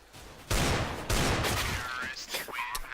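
Rapid gunfire and impacts in Counter-Strike: Global Offensive on the map Cache during a professional match, loud and dense over the in-game ambience, with a faint voice underneath.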